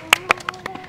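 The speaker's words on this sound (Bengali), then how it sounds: "সবাই একটু হাততালি।" A short run of sharp handclaps, about six quick claps in a second, at a Bangladeshi TV quiz show, over a faint steady tone.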